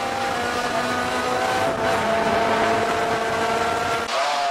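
Radical sports racer circulating during a 12-hour endurance race, a steady loud engine drone with a sustained tone that holds nearly constant, shifting slightly near the end.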